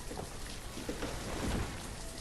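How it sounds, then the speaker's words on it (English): Rain falling in the city-building video game Banished: a steady, dense hiss of rainfall with a low rumble underneath, continuous and fairly loud. "The rain seems to have started for the year."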